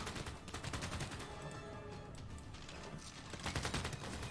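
Rattling gunfire from units in the strategy game Civilization VI, dense rapid volleys rolling continuously at moderate level with a slight surge near the end.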